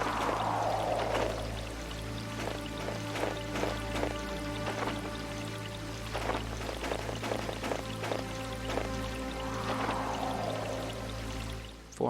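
A rushing waterfall in the video game Mizzurna Falls produces a continuous pouring hiss of water, steady and full, over a low sustained tonal backdrop.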